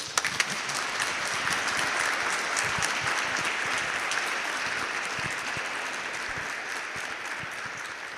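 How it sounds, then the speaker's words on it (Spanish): Sustained, dense applause from a conference audience at a sports psychology talk, steady and full for the whole stretch with no voices over it. "yo les pido a ustedes que le den a ella un fuerte aplauso"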